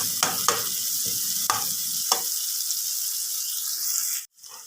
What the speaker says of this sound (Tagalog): Ayan guys, meron itong butter, saka mantika. Ayan, inuna muna natin itong bawang. At itong sibuyas.